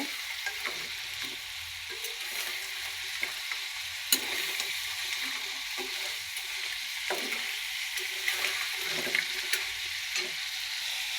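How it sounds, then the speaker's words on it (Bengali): Crabs fry in a pan with a steady oily sizzle and crackle, broken by frequent short pops and spatters as the pieces shift in the hot oil. "আমি একটু ভালো করে ভেজে নেব ভেজে নিলে যে কাঁকড়াটা বন্ধ থাকে ওটা চলে যাবে"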